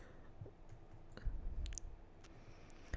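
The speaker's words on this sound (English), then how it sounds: "This new mouse is loud, clicky," A new loud, clicky computer mouse clicking during a game, with sharp isolated clicks scattered irregularly, some close together, over a quiet background.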